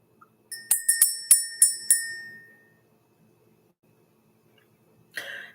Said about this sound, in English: It wasn't a long ring. It wasn't a loud ring, but it was a solid ring.